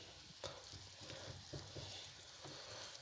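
Onion and garlic sofrito frying in oil, a steady soft sizzle and crackle with occasional stirring scrapes, close and fairly quiet throughout.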